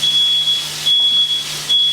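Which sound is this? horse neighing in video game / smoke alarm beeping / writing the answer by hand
smoke alarm beeping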